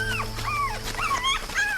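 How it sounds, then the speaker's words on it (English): A puppy whimpers and cries in high, urgent, wavering yelps, several bends of pitch in quick succession, close and fairly loud over a low steady hum. "The pup cries high and urgent."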